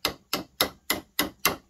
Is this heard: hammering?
yes